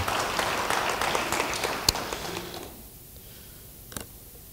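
A church congregation applauds with busy, moderately loud clapping that fades after a couple of seconds into quiet room tone, broken by a few sharp taps.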